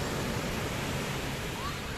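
Sea waves at Puri beach on the Bay of Bengal make a steady, broad wash of surf that stays even and fills the whole moment, with no voices.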